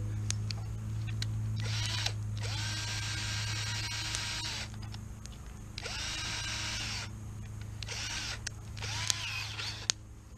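A power drill bores a ring of holes between cutouts around a homemade stove, sounding in about five separate whirring bursts of a second or two each, with short pauses between them, fairly quiet and close.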